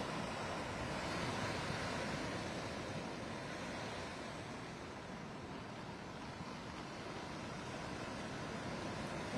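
Rough sea surf at Marina beach in Chennai during heavy rain, a steady broad roar of crashing waves mixed with wind rumble, continuous and fairly distant with no distinct breaks.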